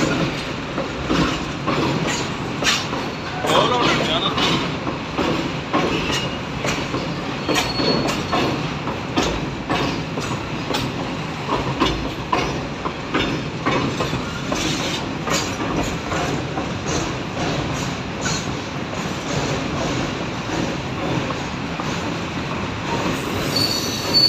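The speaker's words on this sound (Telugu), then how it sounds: "ట్రైన్ అయితే వెళ్తుంది." A train rolls over the railway track at an old bridge under construction near the tower clock underpass in Anantapur, a loud, steady rumble with rhythmic clickety-clack and squealing wheels throughout, no voices.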